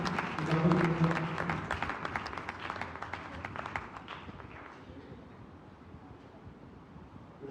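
A Sunday church congregation bursts into loud applause that gradually thins and fades away, leaving a quiet room by the end; a brief voice rises early on.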